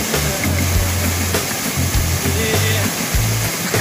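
A waterfall near Lahaina pours with a loud, constant rushing roar close by, a low intermittent throbbing hum running beneath the spray.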